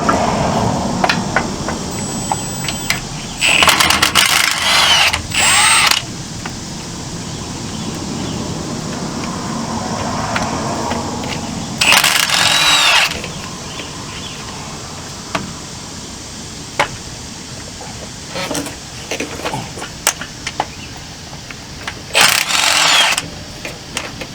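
A power tool bursts in short loud whirring runs, about four or five of them, while removing the bottom bolts from an Eaton two-speed rear differential, with quieter clanking and handling sounds between bursts.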